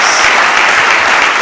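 A congregation gives a loud round of applause during a church sermon, thick continuous clapping close and steady throughout.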